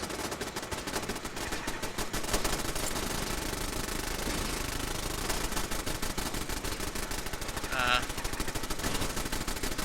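Automated turrets in Fallout 4 fire rapid, continuous bursts of gunfire. The shots stay loud and dense for the whole stretch, with a bright ping partway through. No voices are heard.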